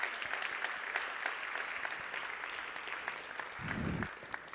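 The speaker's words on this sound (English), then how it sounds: "So let's give a big round of applause to" Audience at an education and skills event applauding all competing teams, steady crowd clapping with a few sharper individual claps and a brief low rumble near the end.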